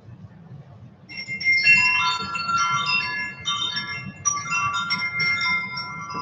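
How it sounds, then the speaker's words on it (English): Metal chimes ring in a bright, shimmering cascade, struck repeatedly and sustaining close up, with a faint low rumble beneath and no talk. "I had to do my chimes to wake up."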